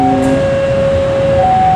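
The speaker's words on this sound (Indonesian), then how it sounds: "Kereta api Bandung Raya Ekonomi persiapan masuk di stasiun Cimindi." A steady, heavy rumble of an economy-class Bandung Raya commuter train arriving at Cimindi station, with a sustained tonal hum, moving close by and filling the space continuously.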